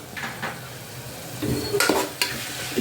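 Ginger, chilli powder, coriander powder and garam masala frying in a pan while being stirred, a soft sizzle under intermittent scraping and clinks of the spoon against the pan.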